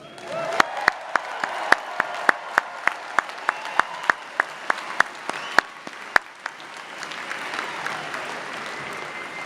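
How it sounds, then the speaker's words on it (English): An audience at an MBA commencement ceremony applauds the graduates, a steady wash of clapping with close sharp individual claps on top, tapering off near the end. "How about a round of applause for our graduates?"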